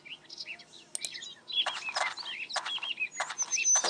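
Kiwi bird in the video game Mimpi Dreams chirping: a string of quick, bright tweets and warbling calls, moderately close, repeating irregularly over a faint background hum.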